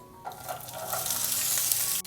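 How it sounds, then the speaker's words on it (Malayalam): Sliced onion sautéing with cumin in a pan for a Kerala-style okra (vendakka) curry, a steady close sizzle and crackle of frying with a few soft stirring scrapes, no voices. "സവാള ചേർത്ത് കൊടുത്തതിന് ശേഷം വീണ്ടും നന്നായിട്ടൊന്ന് വഴറ്റി കൊടുക്കണം"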